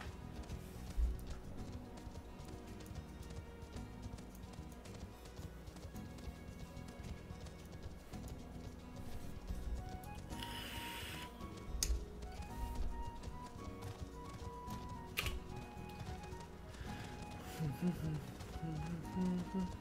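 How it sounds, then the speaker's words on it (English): Horse hooves clip-clop steadily in the video game Final Fantasy XIV as riders pass on horseback, a light rhythmic patter under game music and ambience, moderately faint, with other game effects breaking in now and then. "All these people on their horses."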